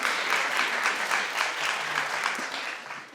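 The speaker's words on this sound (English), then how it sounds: "But you can clap for the next girl." A television studio audience claps steadily and fairly loudly for about three seconds, a dense patter of hands that fades slightly at the end.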